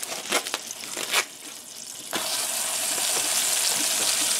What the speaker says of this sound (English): We'll put the ground chuck in there. We'll get all that browned up.